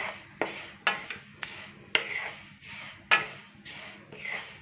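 Sesame seeds dry-roasting in a pan are stirred with a spoon in repeated scraping strokes, about six distinct rasping sweeps with short gaps, close and clear with no voices.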